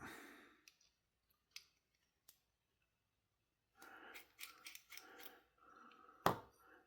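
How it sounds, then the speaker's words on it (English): Faint metallic clicks and a sharp scrape as the steel insert is pulled from a TWOSUN TS32 folding knife, scattered quiet ticks leading to a cluster of handling noises and one bright metallic snap near the end. "I need to pull this steel insert"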